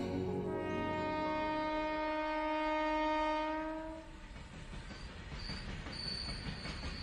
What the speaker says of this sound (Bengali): রাতের শেষ লোকাল ট্রেনটা নীলাকে রানীপুর পৌঁছে দিয়ে চলে গেল।